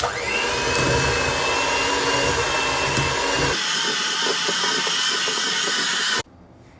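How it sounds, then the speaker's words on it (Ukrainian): Electric hand mixer whipping cream with condensed milk for a cake filling, a steady loud motor whine that shifts tone partway through, then cuts off abruptly near the end. "згущенку ми додали і тепер збиваємо все це міксером"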